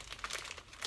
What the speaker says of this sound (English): Then I flip that zipper back over, kind of squeeze the air out of it, fold it over to get more air out